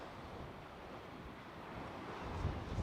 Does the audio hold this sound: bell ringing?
no